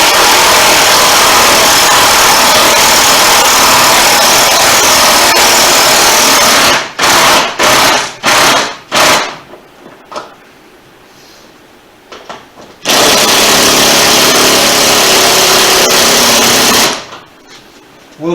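Impact gun working on a 2019 Harley-Davidson Road Glide Special, a loud sustained buzzing whir that stutters into several short bursts, then falls quiet before a second long burst and one more at the very end.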